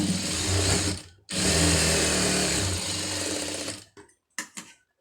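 Sewing machine running steadily as it stitches a folded fabric hem for kokki patti and V patti work, a loud continuous whir lasting about four seconds, with a brief pause near the start and short stop-start bursts at the end, and no talking.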